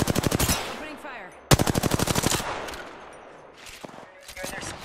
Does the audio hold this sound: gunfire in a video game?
yes